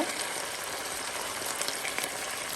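Lamb roast juices poured into a hot pan give off a steady, close hiss of sizzling that holds evenly throughout, with no talking.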